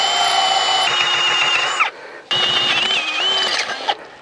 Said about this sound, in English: I forgot I need to drill a hole for the wires to leave.